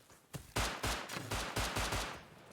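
Revolver fire in the survival video game Rust, about eight sharp gunshots in quick succession with short gaps, loud and close, with no talking.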